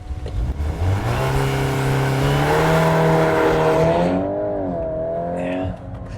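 A VW Golf R launches hard using launch control, its engine roaring loud and close as revs climb through rising gear pulls, then easing off near the end.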